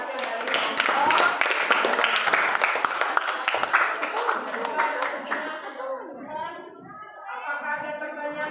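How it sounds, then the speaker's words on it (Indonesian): Classmates clap for a group's presentation in a junior high social studies lesson; a dense burst of hand clapping fills the first five seconds, then fades into quieter voices and scattered children's chatter. "tepuk tangan untuk hasil dari kelompok"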